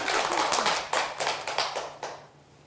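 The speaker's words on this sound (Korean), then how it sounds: "박수 한번 주시죠" Scattered clapping from an audience at a Buddhist dharma talk, a handful of distinct bursts of hand claps that thin out and fade to quiet by the end, fairly close and without talk.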